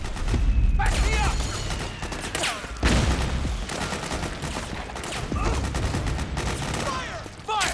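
Rapid gunfire bursts in Metal Gear Solid 4: Guns of the Patriots near mansion grounds, dense overlapping shots with sharp impacts and whizzes, loud and continuous, with shouted voices mixed in.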